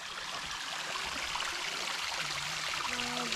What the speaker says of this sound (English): The waterfall here.